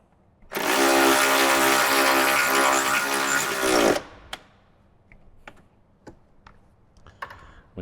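A power tool tightens fasteners on a Harley-Davidson motorcycle, giving one loud, steady whirring burst of about three and a half seconds that winds down, followed by a few faint clicks and taps.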